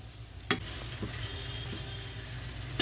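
Lentil vadas for dahi vada fry in a pan of oil with a steady close sizzle, marked by a sharp clink near the start and a few softer knocks as they are moved.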